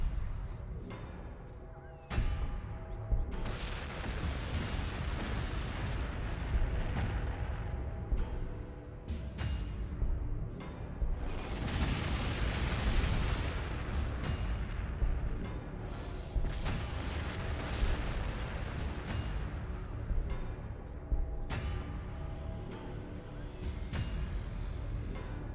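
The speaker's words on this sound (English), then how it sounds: "Apocalyptic barrage." Sustained artillery barrage in the Warhammer 40K Astra Militarum strategy game, a dense continuous rumble of booms and blasts with sharp impacts scattered throughout, loud and unbroken for the whole stretch.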